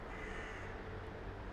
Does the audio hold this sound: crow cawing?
yes